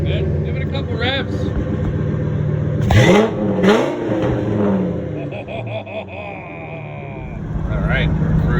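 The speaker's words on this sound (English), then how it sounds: "Give it a couple revs." Triton V10 dump truck engine with a custom exhaust revving twice in quick succession, each rev a loud rising then falling roar over a steady idle, with people talking around it.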